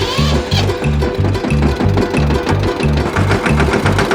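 A tractor engine runs loud and close with a fast, regular thumping chug, a steady knocking rhythm over a rough mechanical drone.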